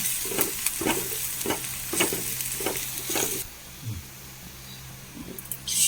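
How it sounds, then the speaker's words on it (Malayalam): Crushed red chilli, about one and a half spoons, sizzles in hot oil during home cooking, with steady frying hiss and regular stirring scrapes in the first half before the sizzle quietens and settles. "അതിലേക്ക് ഒരു ഒന്നര സ്പൂണോളം ചതച്ച മുളക് ഇട്ട് കൊടുത്തിട്ടുണ്ട് അതൊന്ന് മൂത്ത് വന്നോട്ടെ"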